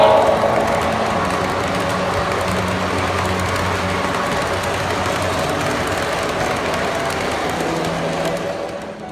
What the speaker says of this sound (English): This is a Pennsylvania Railroad GG1 electric, pulling a World War II Army train